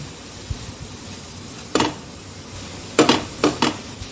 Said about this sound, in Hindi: बीच बीच में गैस कम ज़्यादा करते रहेंगे और कड़छी लगातार चलाते रहेंगे